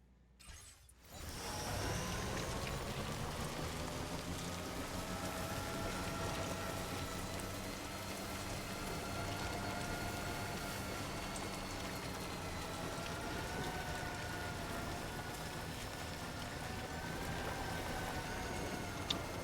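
Steady rain hiss in the video game Death Stranding 2: On The Beach, with a constant mechanical hum and tonal drone beneath it, loud and continuous throughout, with no talking.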